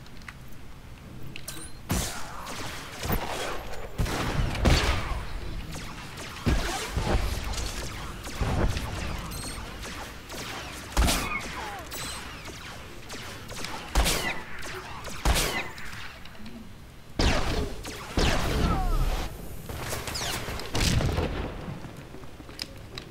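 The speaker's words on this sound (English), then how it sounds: "I love how my blaster fire just goes everywhere and nobody seems to... doesn't ever hit anybody." Blaster fire from a sniper character in Star Wars: The Old Republic, a series of sharp, loud shots spaced irregularly across the scene with game noise between bursts.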